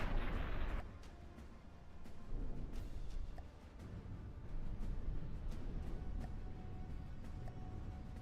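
Big guns firing in From The Depths, a run of heavy booming artillery shots with rumbling explosions. A sharp initial blast is followed by a sustained low roar and further scattered hits.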